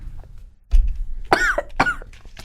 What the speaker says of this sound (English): So, pardon me, I'm gonna cough.